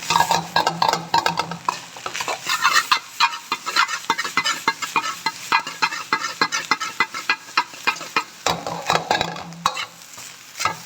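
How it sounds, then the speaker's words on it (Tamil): Chicken rice masala seasoned with salt being stirred in a hot pan, a steady run of loud scraping spoon strokes over a continuous sizzle, rhythmic and close throughout. "சேர்த்து நல்லா வந்து கிளறி விடுங்க"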